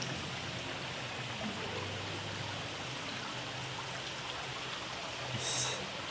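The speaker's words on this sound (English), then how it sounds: "stream of drip of water just coming down, and then it's almost like a miniature waterfall" Water drips and trickles down a miniature waterfall in a large rainforest aquarium, a soft continuous patter with a low hum beneath and one brief brighter splash near the end.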